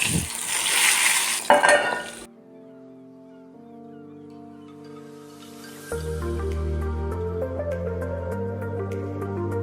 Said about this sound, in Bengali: এবার বেগুনগুলো ভাজবো